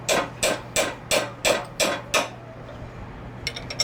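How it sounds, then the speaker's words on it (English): Snap-On brass hammer tapping a Matco combination wrench: seven evenly spaced, ringing metallic strikes, close and fairly loud, followed by quieter faint clinks. "So we're going to use a snap-on brass hammer, and I'm just going to give it some love taps"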